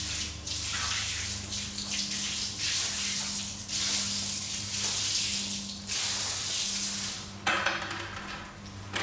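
Soapy water sloshes and splashes across an epoxy-coated garage floor in irregular bursts, with scrubbing strokes and a steady low hum underneath, close and fairly loud, with no talking.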